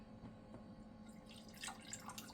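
A drink poured into a cup in a home kitchen, heard as a quiet, close liquid trickle and splash for a couple of seconds with no talk over it.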